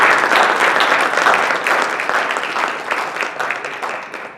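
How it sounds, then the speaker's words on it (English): A breakfast-event audience breaks into loud, sustained applause, dense clapping filling the room for several seconds before tapering slightly toward the end. "can you all join me in a round of applause"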